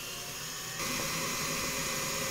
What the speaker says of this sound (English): I'm going to drill a hole and I'm going to put a screw in it